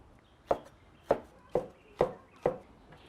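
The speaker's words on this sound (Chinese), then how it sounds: "再切上半个洋葱丝哈，增香" Half an onion is sliced into strips on a cutting board, five crisp knife strikes at an even pace about half a second apart, close and clear over a quiet background.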